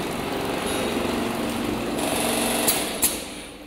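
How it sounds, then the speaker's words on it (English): A semi-automatic bag stitching machine on a granule packing line sews a filled 10-25kg bag, a steady high mechanical whir with a couple of sharp clacks near the end. "After sealing, then we will move it to this stitching machine."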